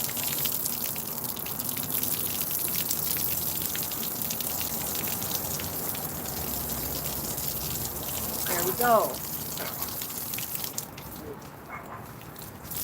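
Water is squirted onto a patio and potted plants in a steady, soft spraying hiss. A brief splashy gush comes midway, a short phrase is spoken, and the flow then drops away.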